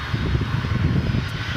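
Airliner taking off at DFW Airport at night, a steady broadband engine roar heard from a distance without any pauses.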